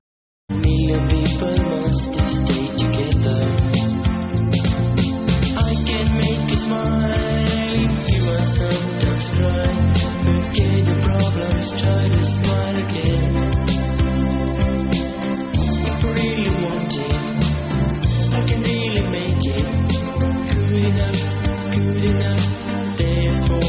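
A low-fidelity song snippet posted online in 2005 plays loud and continuous, a full mix of band instruments with a singing voice, sounding muffled with its upper range cut off, running without pause for over twenty seconds.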